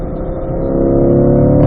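Engine of a C8 Corvette under steady throttle while cornering on a track, a loud, continuous close drone that swells slightly and holds, with no talk over it.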